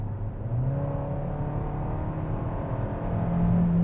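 A 2021 Kia K5 GT-Line sedan accelerates at full throttle, its engine a steady, rising whir and drone heard from inside the cabin, building slightly toward the end without talking.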